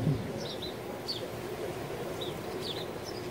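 Several short, high chirps from a bird close by come in scattered bursts over a steady low background hum.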